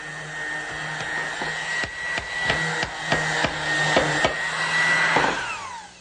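Power sanding on wooden table parts during finish sanding, a steady whirring tool noise with a high whine, broken by a run of sharp knocks and taps as the sander meets the wood, close and loud, with no talk.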